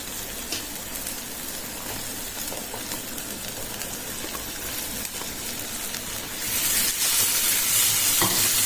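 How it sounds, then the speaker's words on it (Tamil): Jackfruit seeds sauté in hot oil with a continuous hissing sizzle that holds steady, then swells noticeably louder and brighter toward the end. "எண்ணெயில் எல்லாம் வதங்கி வந்த பிறகு பலாக்கொட்டை சேர்த்துக்கலாம்"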